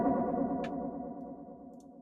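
Synth or instrument chord drenched in Echo Boy echo with feedback pushed high, a dense sustained wash of smeared repeats with a brief bright tick partway through, playing alone.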